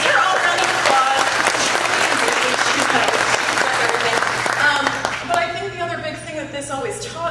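Loud audience applause at a Miss South Central Rock River Valley pageant fills the room, then thins out while voices and cheering rise over the fading claps.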